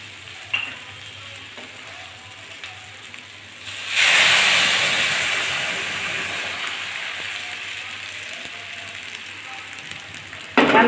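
Lentils are poured into a hot pan of fried bitter gourd and burst into a loud, steady sizzle that slowly eases off, with faint clatter before and after.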